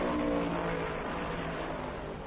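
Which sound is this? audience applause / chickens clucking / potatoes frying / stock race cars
stock race cars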